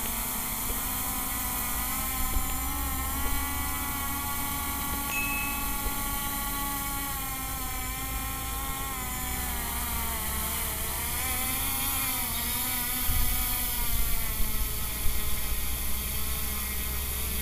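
SJRC F11S 4K Pro drone on its first flight, motors whining steadily with a dense buzzing hum and shifting harmonic pitch, loud and close throughout, no talking over it.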